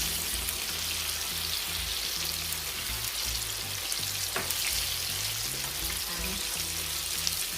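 Five pieces of coconut-coated chicken fry in a pan, a dense steady crackling sizzle close by, broken by occasional pops and faint utensil knocks, with no voices.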